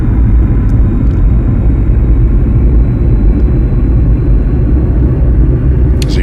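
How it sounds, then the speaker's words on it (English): Soviet MiG-21 delta-wing fighter jet in flight, a steady, loud low roar and rumble of jet engine noise held evenly throughout, with no voices. "As he brings the MiG-21 back round from the left, we get a wonderful look at the undersurfaces of this iconic Soviet fighter."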